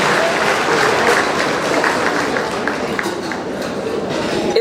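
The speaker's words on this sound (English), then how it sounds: "Please give him a round of applause for that." Steady, dense applause from a large gala audience at a Jamaica 60 Diamond Jubilee celebration, holding at an even, full level throughout with a busy crowd texture and no break.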